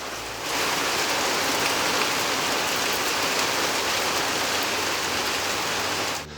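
Heavy rain pours onto a gazebo sheltering a car during outdoor work, a loud, dense, unbroken hiss that lasts several seconds, with no talk.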